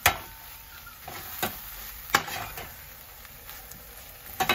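Onion and dry fish sauté with chili powder in a pan, giving a steady soft sizzle broken by sharp scraping clinks of a spoon stirring against the pan every second or so.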